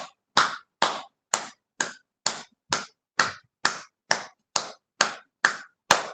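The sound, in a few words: hands clapping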